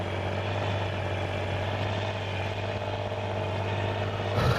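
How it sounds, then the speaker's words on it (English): A farm vehicle's diesel engine in Farming Simulator 19 hums steadily with a deep, even drone and a faint muffled rattle, and a brief burst of noise comes right at the end. "kind of sounds like a diesel."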